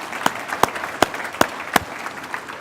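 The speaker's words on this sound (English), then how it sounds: "How about a round of applause for these guys?" Applause from an audience at a meeting in a hall, heard as a handful of distinct, sharp claps standing out over a low, continuous wash of clapping, steady and moderately loud with no voices.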